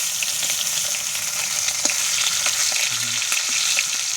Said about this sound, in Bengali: এই যে মাছ আর ডিম ভাজা হচ্ছে, আবার একটা মুরগির ডিমও দেওয়া হয়েছে সাথে।